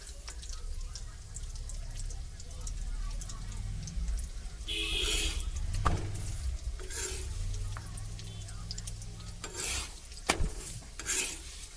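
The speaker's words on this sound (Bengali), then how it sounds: "আবার ওরমভাবে রুটি বেলে নিয়ে রুটিটাকে সেঁকে নেব" Roti rolled out and toasted in a pan, with a soft scraping, rubbing rhythm of rolling and handling over a low background, broken by a few sharper clatters and brushes, close by.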